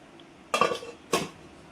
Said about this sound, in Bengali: এটাকে ঢাকা দিয়ে দিলাম